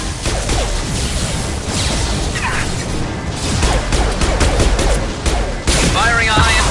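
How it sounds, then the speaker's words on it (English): Heavy-weapon fire in the sci-fi action game Mass Effect 2, loud sustained bursts of impacts and crashes with whooshes, layered under chaotic battle noise and some voices. "Firing a high-impact shot. Heavy weapon."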